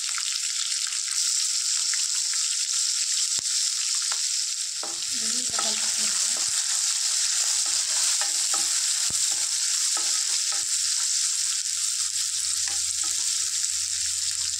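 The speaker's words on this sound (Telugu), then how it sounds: "ఇలాగ ఒక 5 minutes ఫ్రై చేసుకుందాం ఆనియన్స్ ఫ్రెండ్స్" Onions and green chillies fry steadily in hot oil in a pan, a loud continuous sizzle throughout, with soft scraping and stirring sounds underneath.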